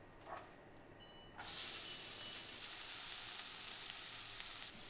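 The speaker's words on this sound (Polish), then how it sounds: "Dodamy troszeczkę oliwy, na której podsmażymy cebulkę z czosnkiem." Onion and garlic hit hot olive oil in a tall frying pan, bursting into a loud steady sizzle after a quiet start, close by with no talking.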